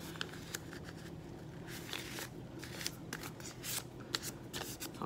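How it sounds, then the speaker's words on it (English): Paper being folded in half in a kindergarten classroom lesson: soft, close crinkling and rustling with several sharper crisp creases, fairly quiet overall. "Now I'm going to fold it in half again."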